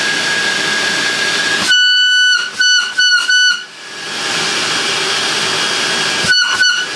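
Electrolux Automatic G vacuum cleaner running with a loud, shrill whistling whine and steady rushing hiss, briefly cutting in and out several times before settling back to a constant drone.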